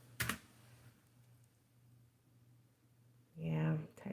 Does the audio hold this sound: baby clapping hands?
no